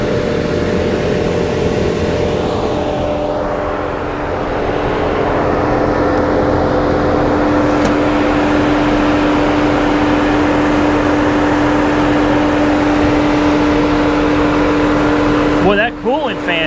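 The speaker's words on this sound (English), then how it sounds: "that coolant fan is wailing me. That coolant fan is not messing around." A car's radiator coolant fan runs loudly and continuously, a steady droning whir with a tonal whine throughout, close up, with a brief clatter near the end.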